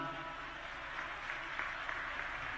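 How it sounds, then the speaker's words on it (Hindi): An audience at a religious gathering with Bageshwar Baba claps in thanks, a soft, distant, continuous patter of many hands. "आप लोग भी इस आयोजन के लिए उनको ताली बजा करके धन्यवाद दो"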